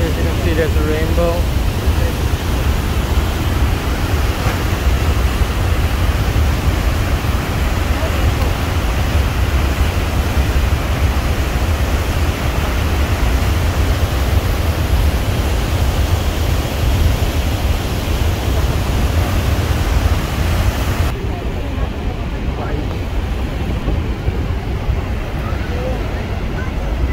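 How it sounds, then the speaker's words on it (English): Niagara Falls in New York, a steady, loud broadband roar of falling water that continues unbroken, with wind buffeting the microphone. "Look at the waterfall over here."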